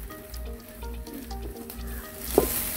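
Chopped ginger and garlic frying in oil for samosa filling, a loud continuous sizzle with pulsing stirs and a sharp scrape near the end.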